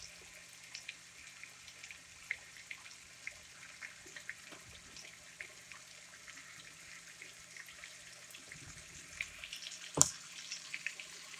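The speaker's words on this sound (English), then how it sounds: "It's sizzling away." Chicken pieces browning in a pot, three at a time, give off a faint, steady crackling sizzle that runs throughout, with one sharp clatter near the end.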